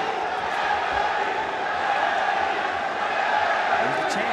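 A fight crowd in an arena in Yangon, Myanmar, roars steadily and densely in support of a fighter, a sustained wash of massed voices with no breaks.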